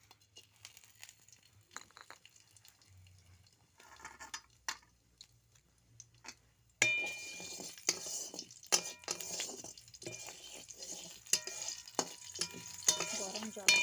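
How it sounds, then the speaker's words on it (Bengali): Dal gets tempered and stirred in a pot over a wood fire: quiet scraping and clinks at first, then a sudden loud, steady sizzle about halfway through, with stirring scrapes and knocks over the crackling. "এখন ডালটা ফোড়ন দিয়ে নেব।"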